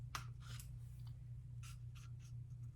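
Scissors snipping through fabric in a few quick, quiet crisp cuts spaced across the moment, over a low steady background hum.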